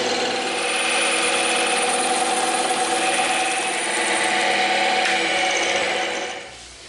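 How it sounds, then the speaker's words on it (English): A bandsaw cuts through EVA foam pieces with a loud, steady motor whine and buzzing blade noise. The sound holds level for several seconds, then winds down at the end. "we're going to go over to the bandsaw and we're going to cut these pieces out"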